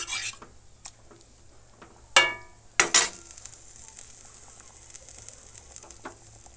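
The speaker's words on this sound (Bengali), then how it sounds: "সব কিছু মশলা দিয়ে বেশ ভালো করে খুন্তি করে নেড়ে দেব।" A spatula stirs jackfruit and prawn curry cooked with ghee and spices in a pan: a faint background sizzle broken by a few distinct scraping strokes close by, with no voices.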